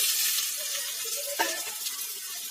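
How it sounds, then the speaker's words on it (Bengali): Drumstick stems, potatoes and onions fry in a pan with a steady, faint sizzle that holds throughout, broken by one brief clink of a utensil stirring partway through. "এখানে ডাঁটা আলু পেঁয়াজগুলো ভাজতে দিয়েছিলাম"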